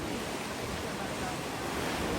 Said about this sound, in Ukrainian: Дуже штормить.